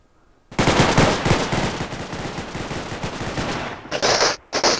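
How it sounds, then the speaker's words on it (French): Rapid, loud automatic gunfire in the video game Garry's Mod, a dense continuous burst of shots lasting several seconds with a short gap near the end before firing resumes. "Ça fait très mal aux oreilles là les tirs."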